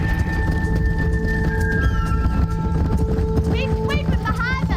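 Hooves of a herd of horses being driven across open pasture in the Red Dead Redemption video game, a steady clip-clop patter under continuous game ambience, with voices talking over it.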